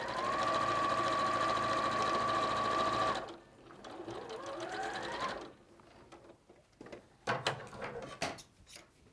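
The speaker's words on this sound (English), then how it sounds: "I'll just sew this one on, then we'll go." A domestic sewing machine stitching quilt fabric runs steadily and loudly for about three seconds, then stops, followed by quieter handling clatter and light knocks.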